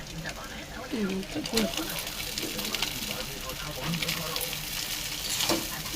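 Egg chow mein is stirred in a hot pan with a spatula, giving an ongoing sizzle with scraping and clinking strokes, under a speaking voice.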